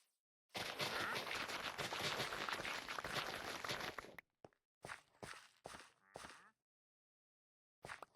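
Video game gunfire comes as a dense, loud sustained burst of rapid shots lasting several seconds, then a few short, separate volleys with silent gaps between them.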